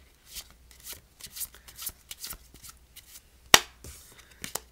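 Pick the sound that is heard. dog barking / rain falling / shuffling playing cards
shuffling playing cards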